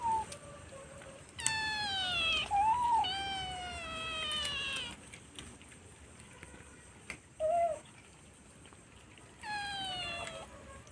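A one-month-old stray kitten meows repeatedly, some cries drawn out and rising, others short and sharp, close by and fairly loud with quiet pauses in between.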